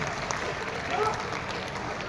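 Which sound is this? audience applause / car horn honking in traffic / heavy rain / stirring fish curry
audience applause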